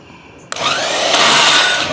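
A worm drive circular saw with a fresh blade cuts into lumber while a carport is built out into a shop. The loud, close whine bites in abruptly and holds steady for the rest of the clip, with no speech.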